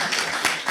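Audience applause after a crowd is asked about eating samosas at a spiritual talk: a brief, steady burst of many hands clapping at once.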